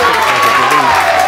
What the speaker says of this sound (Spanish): un aplauso para Juanjo Matoses